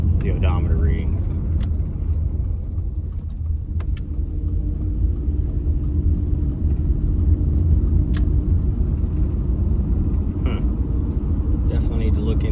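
A wrecked Nissan Altima's engine runs at a steady low idle, a close, constant rumble with brief faint clicks and rattles on top, and someone talks intermittently over it.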